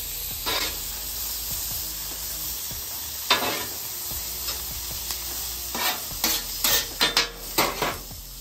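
Rice sizzles steadily on a hot hibachi griddle while a metal spatula scrapes, flips and taps against the flat top, with several clacks bunched together near the end.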